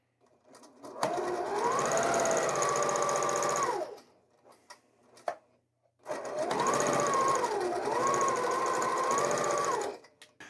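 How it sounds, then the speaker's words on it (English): Sewing machine chain-stitching diagonal seams across fabric squares, running in two long, steady, close whirring passes with a brief quiet gap between them and no voices. "doing diagonal chain sewing, watching my eye here, edge of my foot, and we're just going to feed all these through nice and quickly"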